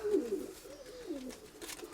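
A domestic pigeon from a backyard flock gives a soft, rolling coo, close and fairly quiet, with a faint rustle behind it and no talk.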